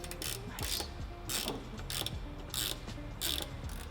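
Ratchet wrench loosening bolts on a Porsche 944 slave cylinder in tight access, a series of short bursts of rapid metallic clicking repeating every half second or so, close and fairly quiet.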